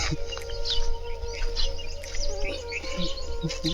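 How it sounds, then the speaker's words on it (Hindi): Birds chirp and tweet in short, scattered calls amid a biodiverse outdoor setting along a path to a temple, over a steady low hum of background ambience. "चिड़ियाँ चहकती हुई सुनाई दे रही होगी"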